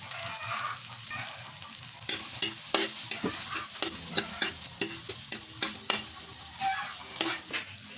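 Garlic, onion, long green chilies and red chilies sautéing in a pan, a steady hiss of frying oil broken by regular scraping knocks of a spoon stirring, close and alone.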